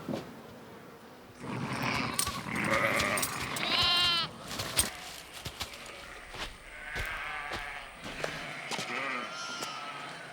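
Sheep on an outback Australian farm during lambing bleat several times, wavering calls over faint insect buzz, with a few sharp knocks and rustles nearby.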